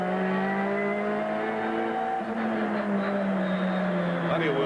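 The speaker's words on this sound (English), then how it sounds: "Plenty of wheel spinning, and just hear that rev changing." A 1989 Group A turbo race car engine revs continuously with shifting pitch as the wheels spin, a steady droning whine with rising and falling tones, heard fairly close.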